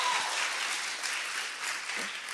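A whole hall audience claps together, a dense, steady wash of applause filling the room for the full stretch without any voices over it.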